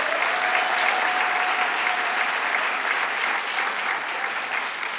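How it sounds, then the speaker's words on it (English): Loud, sustained applause from a large crowd at a hospital event, steady clapping filling the whole stretch without a break. "Let's give them a round of applause."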